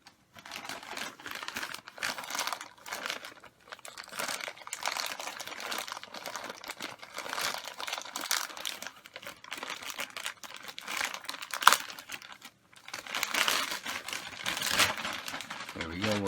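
Packaging from a Supreme unboxing crinkles and rustles in bursts as the parcel is torn open and handled up close. One sharp tap comes near the end, and talk runs alongside.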